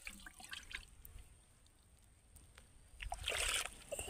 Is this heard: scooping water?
yes